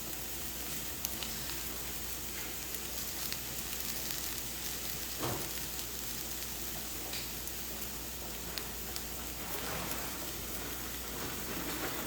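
Spinach and cream cheese ham roll ups cook in a hot pan, giving a steady, even sizzle with soft crackles throughout and no talking.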